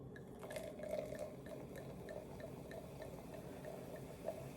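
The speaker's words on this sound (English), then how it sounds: "let's pour it in" Rosé wine poured into a glass, a steady liquid trickle with small drip-like splashes running throughout at close range, fairly quiet and alone.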